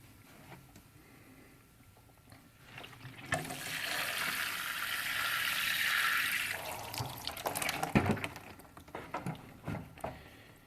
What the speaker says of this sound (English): I got the bigger watering can from outside here for the flower garden.